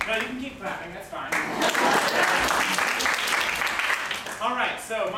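Audience applause at a live comedy show, a dense wash of clapping that swells and holds steady for several seconds, with faint voices and chatter mixed in.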